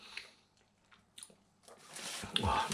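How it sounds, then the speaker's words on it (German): Someone bites into a Danish hot dog in a bun, with soft scattered mouth sounds at first, then a louder, wetter crunching bite building toward the end, close to the mic. "Boah, muss ich mal reinbeißen."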